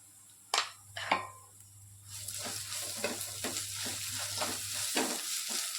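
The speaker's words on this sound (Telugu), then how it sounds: "లైట్గా అయితే ఫ్రై చేసేసుకోవాలి." Food frying in a pan as chili powder and salt go in, with two sharp stirring knocks early, then a steady broadband sizzle with repeated scraping strokes; a low hum runs underneath until near the end.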